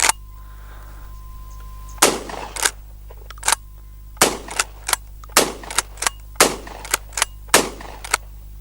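A Pardus LAX12 camo lever-action shotgun fires a series of sharp, loud reports at close range, mixed with metallic clacks of the lever cycling and pauses between shots.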